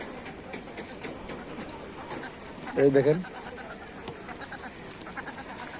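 Ducks give a short burst of quacking near the middle, among pigeons, over faint outdoor background and someone speaking.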